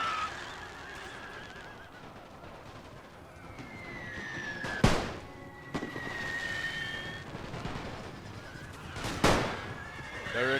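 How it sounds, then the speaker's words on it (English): In a World War I-era strategy game with German Empire forces, horses whinny repeatedly amid a distant battle din as infantry open fire on charging cavalry, two sharp, loud volleys cracking out several seconds apart. "Halt! And open fire! We'll watch the cavalry get torn to shreds."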